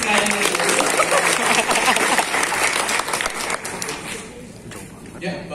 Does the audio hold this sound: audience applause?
yes